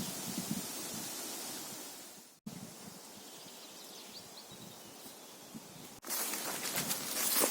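Steady outdoor wind rushing and gusting, with rustling and broadband noise that swells louder toward the end; no voices.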